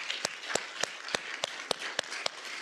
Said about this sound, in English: join me to give them a round of applause